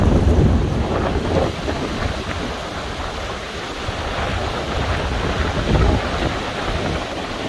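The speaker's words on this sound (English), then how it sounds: "Pretty heavy storm moving in here." Hurricane Ian storm in Miami, Florida, with strong wind and rain roaring in a continuous heavy wash, loud and buffeting the microphone throughout.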